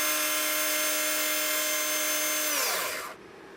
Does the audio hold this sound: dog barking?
no